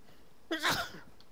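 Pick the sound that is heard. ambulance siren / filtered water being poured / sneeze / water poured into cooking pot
sneeze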